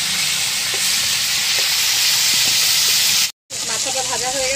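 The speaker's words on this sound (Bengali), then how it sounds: "মাথাগুলো ভালো করে ভেজে নেব।" Hilsa fish heads coated in salt and turmeric fry in hot oil with dried red chillies and nigella seeds, giving a loud, steady sizzle that runs throughout and cuts out for a split second near the end.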